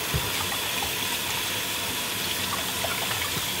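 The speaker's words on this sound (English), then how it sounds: "I will just quickly, I will wash my hands." Kitchen tap running steadily as hands are washed beneath it, a continuous close splashing hiss while preparing shrimp for salt-roasting, with no talking.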